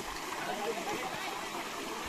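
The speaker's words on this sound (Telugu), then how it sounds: "వాటర్ఫాల్ ఇదే" Water rushing down a hillside waterfall on a trek, a steady broadband wash that holds close and constant throughout, with voices talking faintly underneath.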